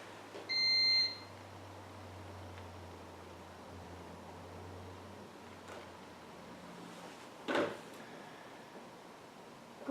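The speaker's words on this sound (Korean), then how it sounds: "거기 끄니까 저쪽에서 삐삐거린다" Electronic beeping from a device once its power comes on: a short high tone burst near the start and a brief chirp later, faint and alone over a quiet hissy room background.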